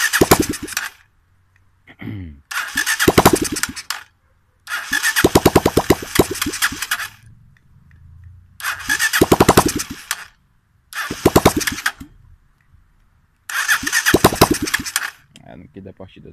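A chopper motorcycle with no exhaust is cranked repeatedly, giving loud rapid clattering bursts of a few seconds each with short pauses between, failing to catch.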